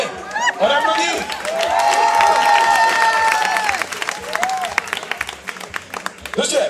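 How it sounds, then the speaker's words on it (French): Applause and cheering fill the room at a women's fundraising evening, a loud crowd of hands clapping steadily for several seconds with voices calling out over it, then tapering off. "Allez, on applaudit."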